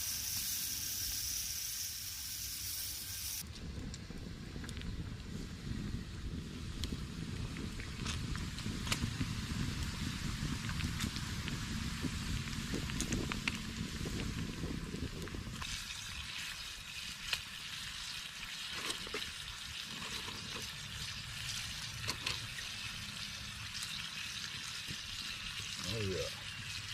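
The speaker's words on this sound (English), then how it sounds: "Bacon in a rusty pan." Bacon fries in a rusty pan, a continuous crackling sizzle that shifts in brightness partway through, with brief clanks of handling and voices talking at times.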